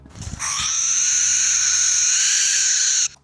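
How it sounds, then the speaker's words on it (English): A barn owl's drawn-out rasping screech, one harsh hissing call of about two and a half seconds that holds steady and loud on its own before cutting off sharply. "Barn owl."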